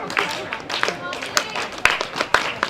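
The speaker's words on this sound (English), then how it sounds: "Your applause please for Brittany Bealby" Scattered clapping from a crowd at an evening athletics championship track race, uneven claps rising and falling under ongoing talk.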